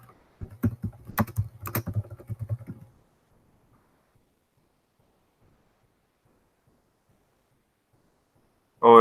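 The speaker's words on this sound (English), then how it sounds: "Let me just type this in." Fingers tap quickly on a computer keyboard in a short, close burst of clicks lasting a couple of seconds, followed by near silence and a brief louder sound at the very end.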